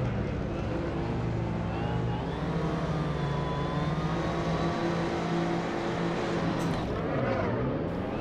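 Race cars rev and roar together off the line at Monza in the Assetto Corsa racing game, a steady dense engine drone with rising pitch sweeps throughout and a voice talking over it.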